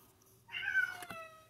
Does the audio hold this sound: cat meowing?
yes